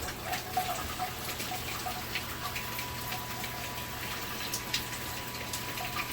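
Cold water runs from a tap with weak pressure, a steady faint hiss and patter that holds evenly throughout.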